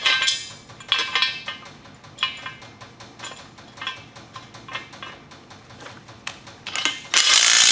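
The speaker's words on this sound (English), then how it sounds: "And somehow it should fit in there. There it goes. Lock washer, big washer." A lock washer and a large washer slide onto a bolt during assembly of a 1322 lb transmission jack, giving a string of light metallic clinks and taps, close by and fairly quiet, with a sharper rattle near the end.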